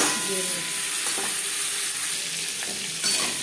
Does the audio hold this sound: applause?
no